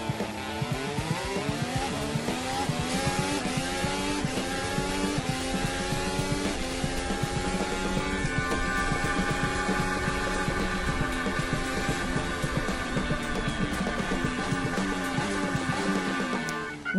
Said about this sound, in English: you'll get how important these are when you see just how fast Sainz goes in this next clip of his start